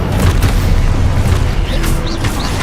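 Expulso explosion spell blasts in the Hogwarts Legacy video game, a dense low booming rumble that sustains across the moment with faint magical whooshes and sparkles layered on top.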